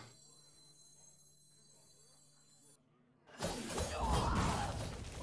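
Shield Shatter card effect in the Hearthstone video game: after a quiet stretch of game ambience, a sudden loud glassy shattering burst erupts and rings out with crackling debris for the last two seconds.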